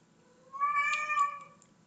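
A cat meows once, a clear, drawn-out cry rising and falling over about a second, close by in a quiet room with faint background hum.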